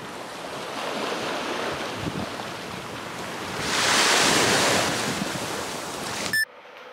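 Sea waves wash onto the shore at Turkmenbashi on the Caspian coast as a steady rushing surf mixed with wind buffeting the microphone. The sound swells louder midway and then cuts off abruptly.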